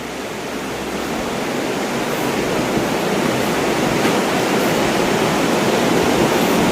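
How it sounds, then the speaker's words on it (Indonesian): Water rushes and gurgles through a forest at a steady, loud, broadband hiss, like a small stream or cascade close by, with no voices heard. "Suara gemericik airnya itu loh."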